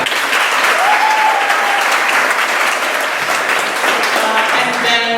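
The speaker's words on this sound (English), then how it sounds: "A round of applause for that." Loud, dense applause from a theatre audience at a stage show, sustained and even throughout, with a voice and a few tones faintly underneath.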